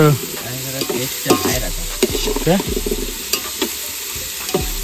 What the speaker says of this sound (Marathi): कांदा जरा आता भाजून घेता तर